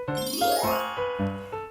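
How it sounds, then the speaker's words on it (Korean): Bright ding-dong-dang chime marking a correct quiz answer in a children's rights lesson, three quick ringing tones with a rising sweep, clear and close. "딩동댕!"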